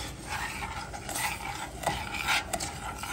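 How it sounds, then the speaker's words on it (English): Evaporated milk and sugar stirred in a pan for pralines, a spoon scraping and swishing with a few soft clinks against the metal, close and steady with no talking. "we have to immediately begin stirring that"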